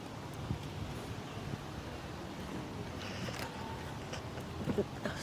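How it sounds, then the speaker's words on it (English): Strong outdoor wind roars steadily against the microphone in a broad continuous rush, with faint scattered background sounds and no clear talk. "It's like crazy wind."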